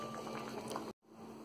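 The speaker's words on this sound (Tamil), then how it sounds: "இப்போ ஒரு மூடி போட்டு அதை கொதிக்க விட்டுடுங்க" Masala puri chaat gravy bubbling under a lid in a covered pot on the stove, a soft continuous simmering burble that drops out briefly, then resumes, faint and close.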